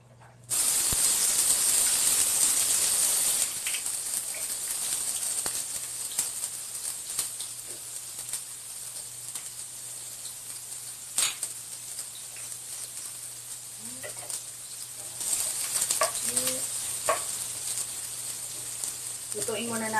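Finely chopped onions fry in a pan with a loud hiss at first, settling into a steady sizzle with small clicks and scrapes throughout.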